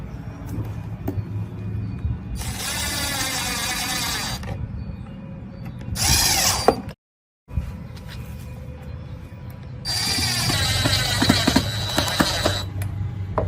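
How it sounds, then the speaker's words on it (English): A power drill driving screws back into the wooden seat of a restored mid-century modern chair, in several sustained whirring bursts separated by pauses, fairly close and loud. "next I am going to get the screws back out and re-drill them into the seat"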